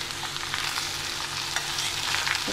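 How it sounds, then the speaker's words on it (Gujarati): Leftover rice being stirred and fried in a pan, with a steady close sizzle and soft scraping strokes running continuously throughout, no voices. "બરાબર હલાવી લેવાનો છે."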